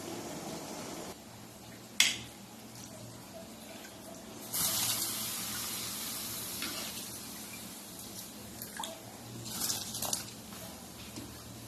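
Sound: soaked rice added into pot of hot water

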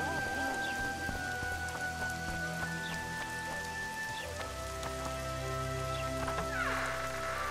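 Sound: rain falling in the video game Witcher 2

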